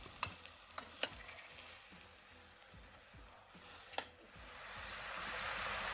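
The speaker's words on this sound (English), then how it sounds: "if you listen, you can hear that beautiful sizzle" A soft, steady sizzle of smoked chicken pelau cooking in a pot, with a few sharp clinks of a spoon stirring early on.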